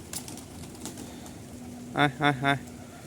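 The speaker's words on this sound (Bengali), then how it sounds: "এই যে আমার কবুতর সকাল সকাল উপরে আসলে কবুতর দেখলে খানার জন্য পাগল হয়ে যায়" Three low, rounded pigeon coos in quick succession near the end, following a stretch of quiet background with faint chatter early on, by a rooftop pigeon loft on a cold morning.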